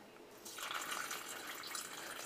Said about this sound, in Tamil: நம்ம வந்து இப்போ தண்ணி ஊற்றி பார்க்கலாம்.